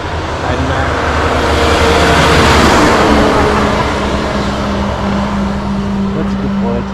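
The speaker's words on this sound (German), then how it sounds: "Da kommt ein Mac." A Mack truck passes on a road in the Appalachian region, its engine and tire roar swelling to a loud peak and then fading away, with a voice speaking over it.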